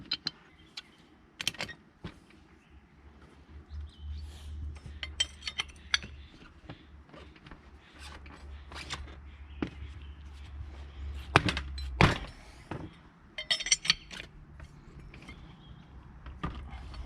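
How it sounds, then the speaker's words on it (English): Nut being worked off the piston end of a Belarus 250AS tractor's hydraulic three-point hitch lift cylinder, with scattered metallic clinks and scrapes and a steady low hum beneath, a couple of sharper knocks near the end. "Now we're going to take the nut off the end of the piston here."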